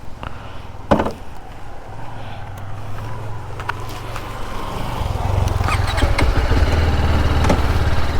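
A BMW motorcycle engine idles close by with a low steady rumble, then revs up and holds a louder, rougher drone toward the end, with a brief knock near the start.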